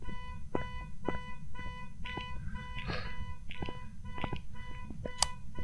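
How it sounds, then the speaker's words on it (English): Repeated electronic beeps in a regular rhythm inside the horror video game Phasmophobia, sharp and fairly close over a low ambient rumble, with a brief brighter chirp near the end. "Cease your beeping. Stop beeping the car, Jenny."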